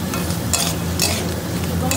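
Crab being stir-fried in a sour masala in a pan, a loud continuous sizzle with quick bursts of scraping from a spatula, close and with no voices.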